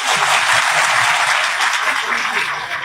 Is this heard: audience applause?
yes